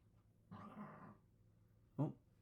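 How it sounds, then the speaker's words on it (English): A dog gives a drawn-out low growling whine, then a sharp short bark-like yelp about a second and a half later, faint and close in a quiet room with no talking. "that's my dog making that noise"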